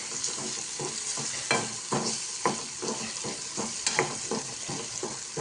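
Chili powder being stirred into a frying pan of prawn curry gives a constant sizzle, with regular scraping and tapping strokes of a spoon against the pan, close by.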